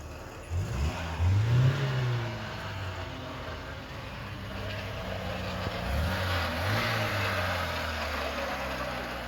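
An old drift car's engine revs nearby, climbing into a throaty roar early on, then easing back before rising again, with a low rumble steady underneath.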